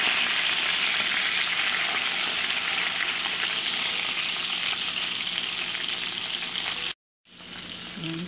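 Beef short ribs browning in a hot pan give a steady, loud, broadband sizzle that runs unbroken for about seven seconds before a brief dropout, then the frying resumes.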